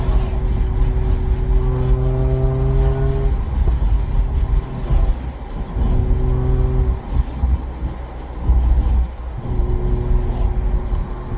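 A Mazda RX8 rotary engine accelerating hard on a road, loud revs climbing in several long pulls broken by short gaps for shifts, with engine drone and road noise throughout.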